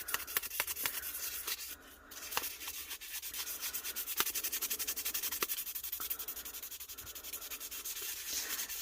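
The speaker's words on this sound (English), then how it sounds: "To rough up the back, I'm just going to take a fairly fine sandpaper. This is a 220." Fine 220-grit sandpaper rubbing over the back of a cured epoxy resin piece from a holographic mold, with close, steady scratchy strokes that repeat evenly with a few brief pauses and no talking.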